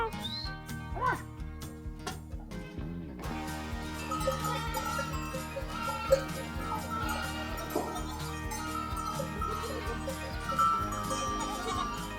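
Goats bleat around a shepherd in the Taurus Mountains of Turkey, with several nearby wavering calls and a clinking of bells against a busy rustling background.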